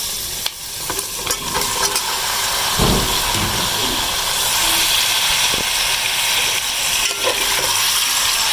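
Chicken pieces hit hot ginger-garlic paste in a pan, giving a steady, loud sizzle and hiss with stirring scrapes throughout, with no talking over it.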